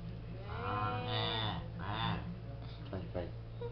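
A child imitates an ox lowing, drawing out a couple of wavering, voice-made moos at close range over a steady low hum, with another person speaking nearby.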